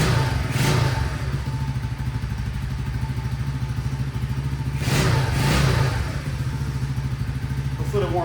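Small CT70 clone minibike engine fitted with a Nibbi carburetor idles cold and slightly rich, a steady low putter with two brief throttle blips swelling louder near the start and middle, captured close up.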